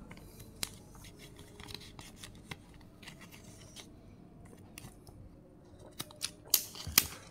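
Crinkly rustling and sharp snips of a tight plastic sleeve being worked open around a paper banknote, close and quiet, growing sharper toward the end.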